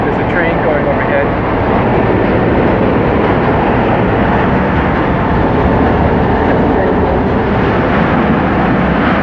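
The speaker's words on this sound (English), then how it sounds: "there's a train going overhead" A loud, continuous rumbling roar fills the whole stretch as a train thunders overhead, heard from a boat on the East River, with no breaks.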